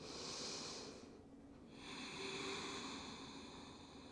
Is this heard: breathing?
yes